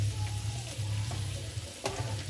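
Onions dropped into a hot pan beside ham and potatoes, frying with a loud, continuous close sizzle and a brief scrape of a spatula near the end.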